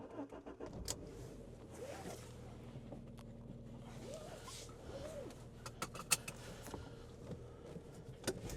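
An Alfa Romeo 156 with a sunroof drives along, its engine a steady close hum with faint mechanical clicks and rattles from inside the cabin, no talking.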